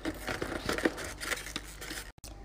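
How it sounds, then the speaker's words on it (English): Scissors snipping and cutting open the plastic package of a fidget toy, a quick series of close, quiet crisp cuts with faint crinkling, ending in a sharp pause. "Trigger warning scissors."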